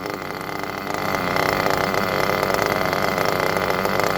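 A nitro model engine idles steadily through a break-in run, a buzzy continuous drone that rises slightly in level after the first second and then holds steady, alone without talk.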